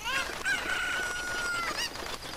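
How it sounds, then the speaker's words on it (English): Rooster-like cuckoo chicken from Zelda: Ocarina of Time crowing loudly and close, a long drawn-out call with a sharp rising squawk near the end, over steady game background. "grab the cuckoo here and jump to the right."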